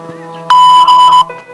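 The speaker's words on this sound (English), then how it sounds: "Record a new message after the beep and press #1#." A single steady electronic beep from a RadioNet call-in answering device sounds before message recording. It is loud, close and lasts under a second, with faint background hum before and after.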